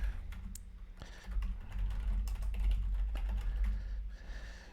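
Someone types on a computer keyboard into a website contact form, with rapid, close, uneven key clicks over a low background hum and no talking.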